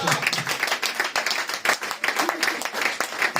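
A church congregation clapping together in steady, dense rhythm, a continuous close wash of many hands filling the whole stretch, with some voices mixed in.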